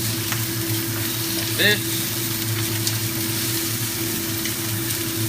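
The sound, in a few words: fatty pork belly being stir-fried clockwise in a pan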